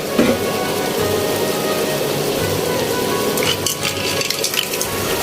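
Corn stirred into seafood frying in a pan for a Filipino mixed seafood dish, with mussels about to go in; a steady, loud sizzle and crackle of hot oil runs throughout with faint stirring scrapes, no talking.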